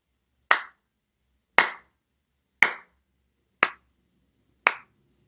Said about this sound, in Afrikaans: Jou hande kan klap.